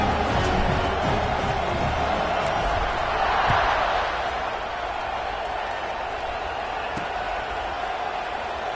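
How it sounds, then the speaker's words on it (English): Stadium crowd noise in the College Football 26 video game during a Tennessee Volunteers vs. Iowa Hawkeyes matchup, a steady roaring buzz that swells briefly and then settles into a constant wash of distant voices. "this crowd is buzzing after that last score"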